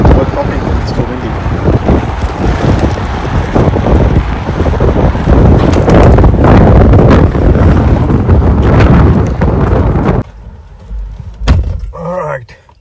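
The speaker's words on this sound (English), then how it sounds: "It's very windy outside again." Strong gusts roar and buffet against the microphone outdoors at a car camping spot in Victoria, Australia, loud and continuous for about ten seconds before dropping suddenly to a quieter background with a brief thump.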